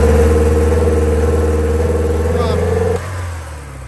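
A 1984 Porsche 944 engine gently given gas, a loud steady mid-pitched drone that holds even, then drops abruptly near the end to a lower idle.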